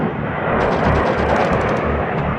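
Rapid gunfire from a 1982 Falklands landing force chases attacking Skyhawk jets, a loud, dense rumble of shots and blasts that holds steady across the whole stretch.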